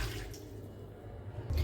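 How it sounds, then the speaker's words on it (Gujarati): Water is poured into a metal dhokla steamer to steam bafla baati for a Rajasthani dal baati recipe, a short continuous splashing gush at moderate volume with no speech. "અને અહીંયા મેં ઢોકળિયું લઈ લીધું છે, તેમાં આપણે પાણી ઉમેરી દેવાનું છે."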